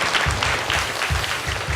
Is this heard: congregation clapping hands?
yes